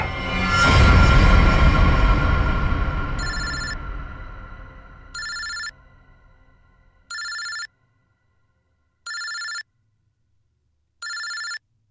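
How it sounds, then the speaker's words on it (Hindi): A loud swell of noise fades away, then a telephone rings five times in evenly spaced bursts with short silences between. "ये किसका फोन है?"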